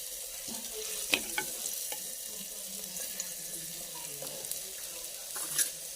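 Crushed garlic frying in hot oil in a home kitchen gives a soft continuous sizzle, broken by a few clinks and scrapes of stirring, close and moderately loud.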